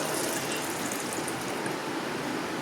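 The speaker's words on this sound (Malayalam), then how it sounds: "ഇനി നമുക്കിത് പാലാദ്യം മിക്സിയുടെ ജാറിലോട്ട് ഒഴിച്ചു കൊടുക്കാം." Milk poured into a mixer grinder jar while making mango kulfi: a steady, close, hissing liquid pour that runs evenly without a break.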